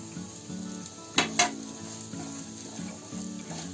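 Onion and roasted coconut masala sizzle and fry in a pan, a steady crackle broken by two sharp clinks of a utensil on the pan, with stirring throughout.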